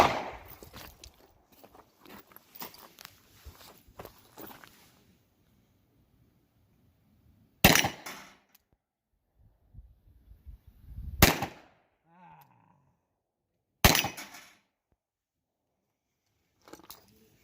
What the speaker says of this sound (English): I'm going to try to hit a plate with the shotgun with one of these leftover defense loads